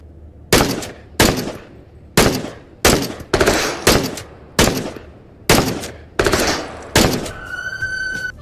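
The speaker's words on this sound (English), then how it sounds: "Whoa, that was a machine gun!" Gunfire in the VR game Into the Radius rings out as about a dozen sharp, loud shots in a fairly even rhythm, each with a short echoing tail, ending with a faint electronic tone.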